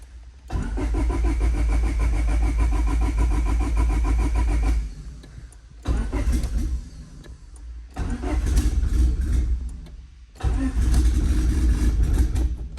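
Turbo D16 engine in a Honda Civic sedan cranking in repeated loud bursts, the starter whirring close by with short pauses between attempts and a catch toward the end.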